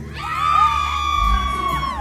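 Festival crowd at Sumfest 2024 in Jamaica screaming on cue, a loud sustained mass of shrill voices rising and holding for about two seconds, with a harmonic tone running over it.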